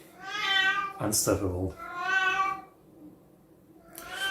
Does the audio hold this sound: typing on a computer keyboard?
no